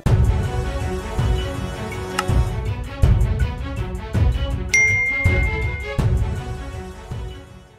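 A notification bell ding rings out once, bright and sustained, partway through, layered over rhythmic background music with a steady beat.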